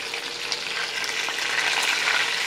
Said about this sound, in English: I already got my meatballs browning in the pan.